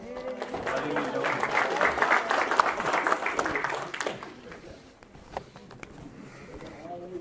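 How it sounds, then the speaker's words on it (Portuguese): An audience at a lecture in Juiz de Fora applauds, with steady, fairly loud clapping for about four seconds before it fades into scattered claps and murmurs. "Uma salva de palmas para o nosso amigo."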